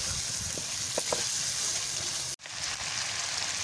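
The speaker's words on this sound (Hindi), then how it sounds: "और अभी भी थोड़ा सा अच्छी तरह भुना जा रहा है।" Chicken karahi with tomato and onion frying over an open fire, giving a steady close sizzle with a few brief stirring clicks and a short cut near the middle.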